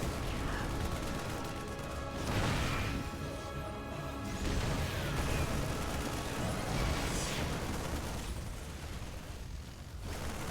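A tank fires during a StarCraft II battle, producing several heavy booming blasts spread across the stretch amid dense, noisy game combat.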